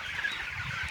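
Young broiler meat chickens, 27 days old, cluck and chirp on a regenerative farm, a busy overlapping flock chatter at moderate distance with no talk.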